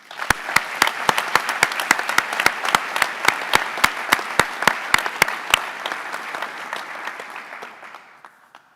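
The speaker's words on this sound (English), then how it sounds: "Let's give these ladies another round of applause." At a senior awards night, an audience applauds award recipients: sharp, regularly spaced nearby claps over a dense crowd applause that fades out gradually toward the end.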